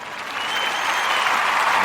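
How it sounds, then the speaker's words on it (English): A round of applause rises from an audience, steady broadband clapping that swells slightly and holds for a couple of seconds without pause. "round of applause for that."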